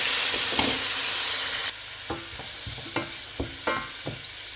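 Onions, tomatoes and green chillies sizzle steadily in a hot pan, with a few sharp clinks and scrapes of a utensil stirring through them.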